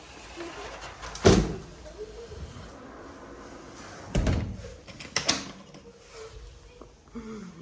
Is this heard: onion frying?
no